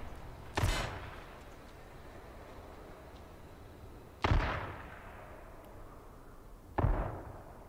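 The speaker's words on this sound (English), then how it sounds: "How many times do I have to shoot him?" Three sharp gunshots ring out in H1Z1, widely spaced and each trailing into a long echoing decay over a low rumbling background.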